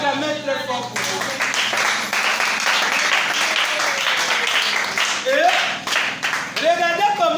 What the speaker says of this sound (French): Acclamez très fort pour vous.